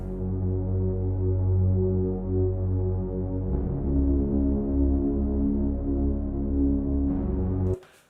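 A deep, sustained synthesizer bass drones with a throbbing low tone, shifting pitch twice, loud and alone until it cuts off near the end.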